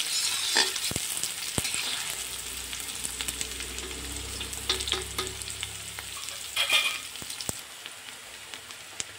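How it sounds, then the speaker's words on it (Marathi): Onion sautéing in a pan before tomato goes in for a mixed vegetable dish, steady close sizzle with repeated stirring scrapes and utensil taps throughout, no speech. "कांदा थोडं परतवून घेऊया आणि मग टोमॅटो टाकूया"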